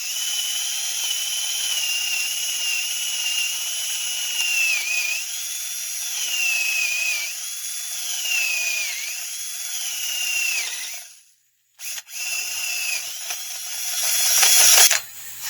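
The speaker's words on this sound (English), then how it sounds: "I'm going to drill it as perpendicular as I possibly can so that it's the same on both sides" A power drill bores a hole through a lifting tripod part with a steady, loud whine that wavers in pitch as pressure changes, stops briefly near the end, then restarts and rises before cutting out.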